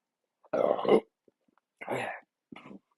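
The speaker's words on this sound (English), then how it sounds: "Oh, I'm gonna burp." A person burps several times in a quiet room, the first burp long and loud, followed by two shorter belches with brief silences between.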